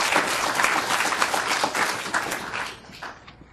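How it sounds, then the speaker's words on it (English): An audience at a student conference claps for the panel speakers, loud and dense at first, then thinning and fading out toward the end. "So let's give them a round of applause."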